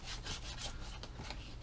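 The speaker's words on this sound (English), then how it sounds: "sand lightly just to take the shine off" Hand sanding lightly across the plastic deck of a Hobie i9S kayak, producing a quiet, continuous rhythmic rubbing with repeated back-and-forth strokes close to the microphone.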